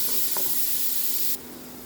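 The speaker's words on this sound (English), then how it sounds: "Let's add our onion. Fry until it releases the aroma." Onion frying in a pan while cooking chicken, a steady close sizzle and hiss that runs evenly, then drops sharply quieter near the end.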